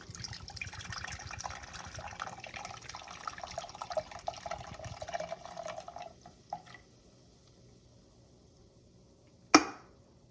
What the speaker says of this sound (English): So the next thing what we're gonna do, so we're actually gonna pour the monster